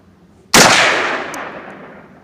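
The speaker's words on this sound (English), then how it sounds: "My boy's shooting the AR." A single loud AR-15 rifle shot fired outdoors, an abrupt sharp crack followed by a long decaying echo, with no talk over it.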